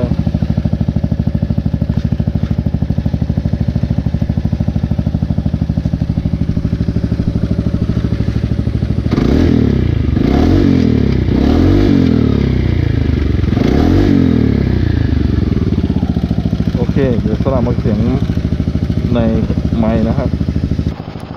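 Honda Forza 300 scooter exhaust recorded on a helmet-mounted GoPro, a steady loud engine drone with wind rumble throughout, rising and falling as the throttle swells midway, then settling back toward idle.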